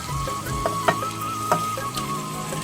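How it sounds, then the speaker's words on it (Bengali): Potatoes, papaya and eggs sautéed in a pan, a steady sizzle broken by several sharp spatula taps and scrapes at irregular intervals, with a faint tone in the background. "দেখ সবগুলো দিয়ে আগে কষে নিচ্ছি"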